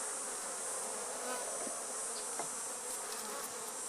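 Honey bees hum in a dense, steady drone close by around a hive, a continuous buzzing swarm with faint clicks.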